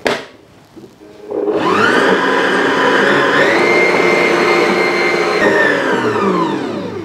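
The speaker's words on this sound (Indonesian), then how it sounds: "Lalu setelah dinaikkan kita mulai lagi kocok lagi." An electric hand mixer creams butter for a banana cake batter, starting after a short quiet pause and then whirring loud and steady for about six seconds, its motor pitch shifting slightly as it runs.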